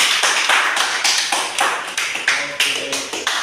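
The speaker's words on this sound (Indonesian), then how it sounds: "Berikan tepuk tangan" A class of vocational high school students claps together in a burst of applause, dense overlapping hand claps with rhythmic peaks, loud and close, without speech.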